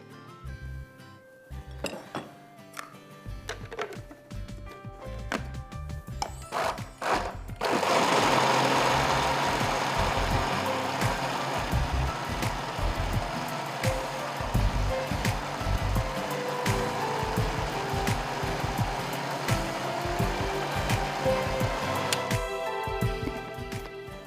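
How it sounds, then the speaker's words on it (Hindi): A kitchen blender whirs through a thick Sindhi dal kadhi mixture thickened with besan, starting with a few short bursts and clinks, then settling into a steady, loud motor roar that runs for most of the clip. "एंड इसको ब्लेंड करके फिर हम यूज़ करेंगे।"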